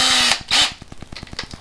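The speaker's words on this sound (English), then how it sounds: "But I'm going to get this drilled out" A power drill bores out a post on a custom 1955 Chevy gasser, two loud whining spins followed by a rapid ratcheting clatter of short, evenly spaced knocks, close by with no talk.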